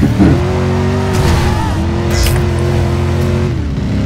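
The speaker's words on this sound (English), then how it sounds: "this car has no handling at all" Loud, steady car engine drone from the Driver San Francisco video game, holding a sustained revving tone with shifts in pitch and a brief tire squeal near the start, with faint talk underneath.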